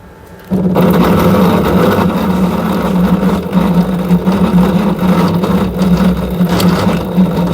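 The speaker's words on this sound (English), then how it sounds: "now drain motor is catching" A Samsung washing machine's drain motor runs with a loud steady hum and rattle that kicks in abruptly after a quiet half second and continues evenly to the end, with no talk.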